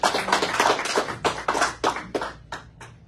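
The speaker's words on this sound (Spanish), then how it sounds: "¿Por qué no le da un aplauso al Señor?" Church congregation applauding during a sermon, a dense burst of clapping hands that thins into a few separate claps and fades out.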